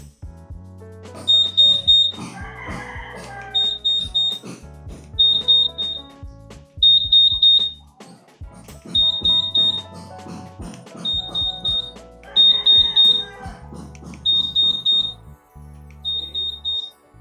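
A Honda ADV 160 scooter's answer-back alarm sounds in repeated bursts of rapid, high-pitched electronic beeps, about nine short loud groups separated by brief pauses, each joined by a lower tonal chirp.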